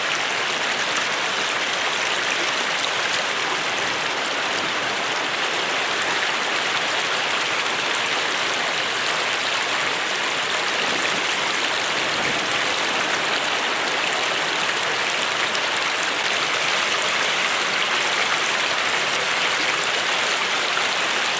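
A river flowing over rocks, a loud, steady and unbroken rush of water close by, with no voices.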